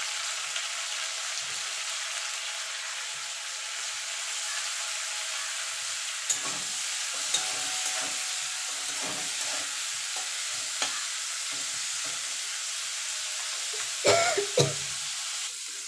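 Bitter gourd frying in oil with salt and turmeric gives a steady broadband sizzle throughout, with occasional stirring scrapes and clinks, close and continuous, with no talking.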